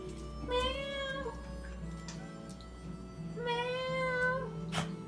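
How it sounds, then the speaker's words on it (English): A cat meows twice, two drawn-out, wavering cries a few seconds apart, fairly close and clear over a low steady household hum, with a faint tick at the end. "All the kitties in the house go meow."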